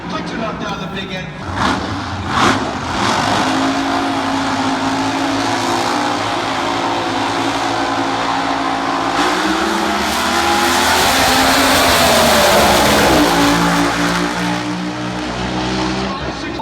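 A nitro-injected Top Fuel drag racing car engine roars loud and continuous at a drag strip, a dense sustained blast building in intensity over more than fifteen seconds.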